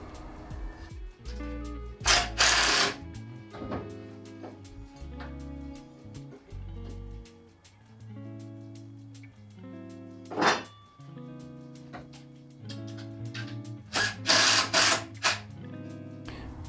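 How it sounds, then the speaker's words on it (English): A power drill bores through pre-drilled template holes into a reclaimed wood beam in short bursts of whirring, interspersed with quieter clicks and handling knocks, near and moderately loud. "I will drill through these holes that I've already drilled into the beam to mark it"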